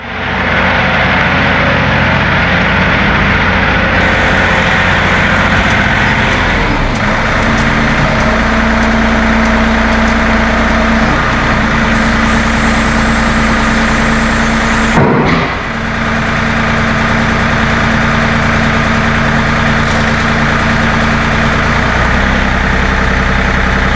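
A tractor's heavy diesel engine idles steadily and loudly up close, running badly, with a rough low rumble and a brief clunk partway through.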